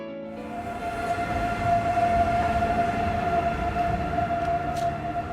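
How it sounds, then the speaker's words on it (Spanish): Passenger and freight trains pass through a station in Navarra, a steady loud rumble of rolling wagons with a sustained tonal whine running throughout and no talk. "estamos viendo cómo pasan trenes con pasajeros, mercancías"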